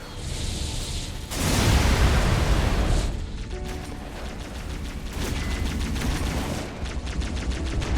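Bombs hit the ground in sequence during an air bombing run in Halo Wars, a loud rolling wall of blasts and rumble followed by rapid crackling bursts and gunfire-like clatter, all dense and close.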